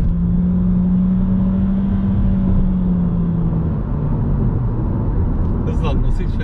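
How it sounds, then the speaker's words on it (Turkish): A 2022 Honda Civic accelerating on a motorway, heard from inside as a loud steady engine drone with a rising then falling tone over road and wind noise, and brief speech near the end. "Sırada aracı tekrar otobanda bir hızlandıralım."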